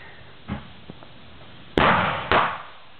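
Firework mortars going off outdoors: a few faint pops, then two loud, sharp bursts about half a second apart, each ringing briefly.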